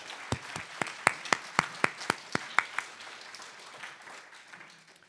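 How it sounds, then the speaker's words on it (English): A single person claps about a dozen evenly spaced times, sharp and close, during a round of applause at a conference event, before the claps fade into a quieter room murmur. "Let's give a round of applause for those people and those standing."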